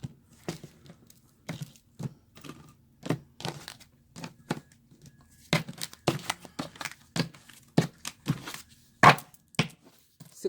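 A tarot card deck cut and shuffled by hand, giving a run of sharp papery snaps and riffling flicks in irregular bursts, close and fairly quiet, with no talking over it.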